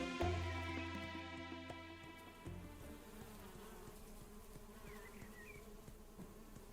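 Bees buzz around an apiary in the cozy farming game Echoes of the Plum Grove, a close insect drone with harmonic hums that sits over soft game ambience and fades into lighter buzzing.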